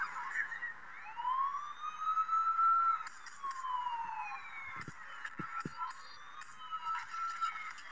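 A police siren wails with a rising and falling tone, moderately loud, accompanied by a few sharp clicks and honks in the game Indian Bike Driving 3D.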